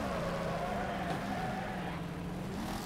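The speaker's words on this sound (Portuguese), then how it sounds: "Olha o drift." A car drifting in the demolition racing game Wreckfest, a steady engine drone with tire and motor tones held throughout, loud and continuous at close range.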